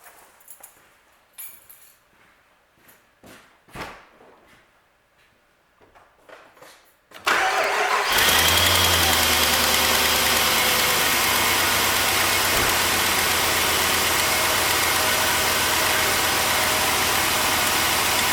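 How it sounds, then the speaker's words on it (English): Quiet shuffling and small clicks, then a Jeep Grand Cherokee WJ engine cranks and catches, settling into a steady, loud idle that runs to the end. "now I'm gonna start the engine and we'll see what we're reading"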